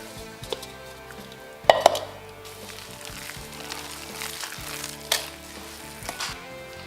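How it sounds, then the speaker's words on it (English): Dry and wet ingredients for keto zucchini muffin batter are stirred together in a bowl, making a steady, soft, wet scraping sound broken by a few sharp clinks of the utensil against the bowl. "I am going to mix together the dry ingredients and the wet ingredients."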